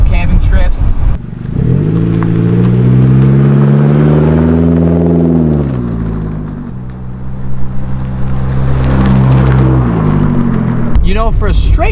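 A car engine with a straight muffler delete revs up, holds, then drops back, its loud throaty exhaust rough and unmuffled, heard close by.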